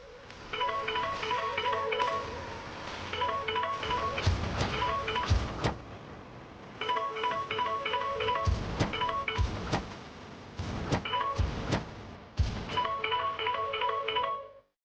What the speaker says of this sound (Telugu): phone ring అవుతున్నట్టుంది